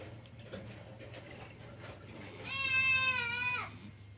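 An old goat gives a straining, grunting bleat, a single drawn-out nasal cry lasting about a second, heard close over quiet farmyard background without speech.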